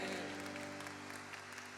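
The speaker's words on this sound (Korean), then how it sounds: "오늘 기쁨 되신 주님께 우리 감사와 영광의 박수 올려드립니다." A Sunday worship congregation applauds in a church with steady, dense clapping, heard faintly and at a distance over sustained organ or keyboard chords.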